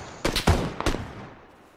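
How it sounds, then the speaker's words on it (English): A few loud rifle shots in PUBG on the Karakin map, about three sharp reports in quick succession with a short echoing tail, alone with no talk. "Looked like he was going to shoot at me, so I shot."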